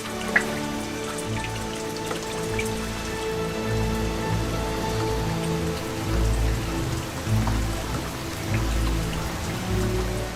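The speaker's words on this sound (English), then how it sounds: "Sometimes in midsummer, the clouds keep coming and coming, and for many weeks the rains are relentless" Heavy summer rain pours along the Amur river, a dense and steady patter of drops striking surfaces close by, holding constant throughout with a low rumbling bed beneath and no talking.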